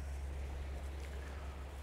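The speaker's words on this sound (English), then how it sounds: "Bit windy again. Still a bit windy, and it's blowing straight at us." Steady, loud wind roars across the microphone on a sea beach at Immingham Wall on the East Coast during fishing, a continuous low rumble with no pauses.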